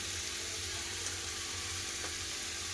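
Prawns and ridge gourd frying in a pan, a soft steady sizzle with faint low background hum and one or two light clicks, quiet throughout.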